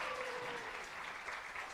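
Audience applause for a singing group after their performance, a fairly quiet, even wash of clapping from a hall crowd that continues steadily throughout.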